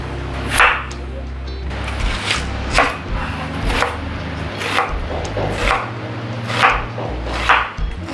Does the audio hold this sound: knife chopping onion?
yes